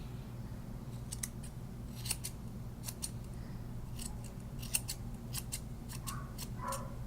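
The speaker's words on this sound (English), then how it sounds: "Now this is where I'm going to use my curved scissors or my round scissors." Curved grooming scissors snip quickly and crisply in short bursts of clicks while trimming a Shih Tzu's paws, over a low steady background hum.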